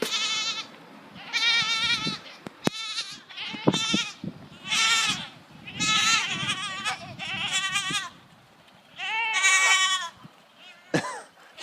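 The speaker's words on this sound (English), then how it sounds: "Let's give the rest of these scraps to these goats." Several goats bleat repeatedly while being fed melon scraps, a close, loud, overlapping series of wavering cries with short gaps and a few snorts between.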